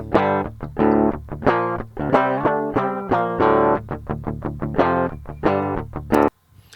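Distorted electric guitar riff played through an amp, loud and steady with rhythmic chugging chords and effects processing, cutting off abruptly near the end.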